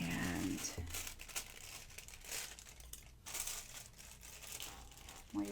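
A foil sheet crinkles and rustles close up as it is rubbed and burnished onto a card, continuous papery crackling with uneven swells over several seconds.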